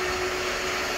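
A vacuum cleaner hoovers algae and debris out of a Nexus 220 koi pond filter, giving a loud, steady motor whine with a constant hum and no breaks, close to the microphone.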